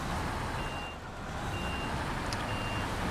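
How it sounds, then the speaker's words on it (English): A heavy truck in the SnowRunner game towing another truck that is stuck, its engine a steady, loud drone that holds for the whole span, with a faint intermittent reversing beep over it. "Just ignore the fact that I'm having to tow the truck out."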